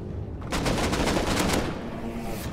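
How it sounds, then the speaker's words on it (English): Rapid gunfire in Rust, a dense burst of loud overlapping shots lasting about a second, followed by a trailing echo and lingering game ambience. "Do you want to try and shoot the entrance?"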